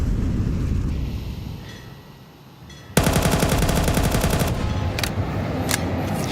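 Counter-Strike match gunfire from SMGs and pistols. A dull, muffled stretch gives way to a sudden loud burst of rapid automatic fire, followed by a few sharper single shots, with no voices.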